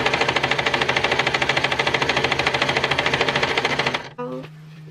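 A sewing machine stitches a seam with a 0.5 seam allowance right along the fabric edge, its needle hammering in a fast, steady rhythm for about four seconds before stopping abruptly, followed by a brief faint hum.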